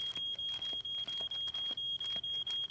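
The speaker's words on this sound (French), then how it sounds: "Mon pain a brûlé et la fumée a déclenché l'alarme." A high-pitched smoke alarm set off by burnt bread in a home kitchen, a steady piercing tone with rhythmic dips, beeping on and on, faint, with no talk.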